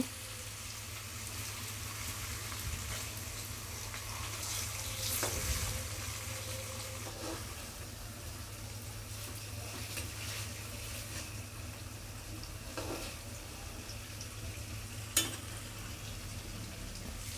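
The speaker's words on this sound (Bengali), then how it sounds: "কড়াতে দিয়ে আমি পনিরগুলোকে একটু ভালো ভান্ন মতন লাল লাল করে ভেজে নেব" Paneer cubes fry in a kadai with a steady, fairly quiet sizzle and crackle, plus a few soft utensil clinks and stirs along the way; no one talks.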